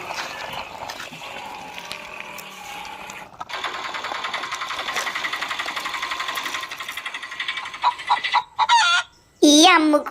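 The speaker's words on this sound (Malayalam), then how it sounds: "ഈ അമ്മുക്കോഴി ഭയങ്കര കൂവലാണല്ലോ മാമ." A hen clucks and crows loudly and close by, over a steady buzzing rattle. The calls grow sharper and more broken toward the end, where a voice briefly speaks.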